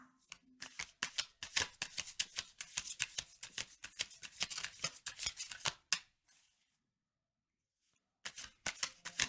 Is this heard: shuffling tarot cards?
yes